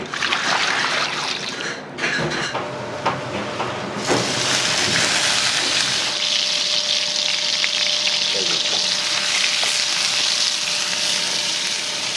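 Seasoned rice stir-fried in a pan in a Fukuoka udon shop kitchen, a steady loud sizzle with scraping and tossing that continues throughout, briefly dipping near the start.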